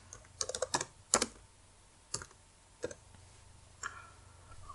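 Short bursts of keystrokes on a computer keyboard while text is entered in Inkscape, quick clustered clicks at first, then sparse single taps with pauses, close and fairly quiet.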